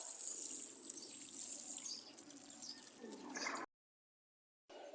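Water pours steadily onto newly planted petchai seedlings in a container, a soft continuous trickle and splash that shifts in tone, then cuts off abruptly before resuming briefly at the end.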